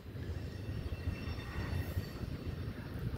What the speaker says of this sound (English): these trains pass about every half hour, every hour now